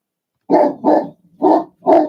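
A dog at home barks four times in two closely spaced pairs, loud and near, with brief silences between the barks and no talking.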